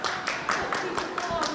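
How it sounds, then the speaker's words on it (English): Scattered hand clapping from a few people at a school science fair, sharp irregular claps repeating about every quarter second over a roomy background of chatter. "There's random clapping."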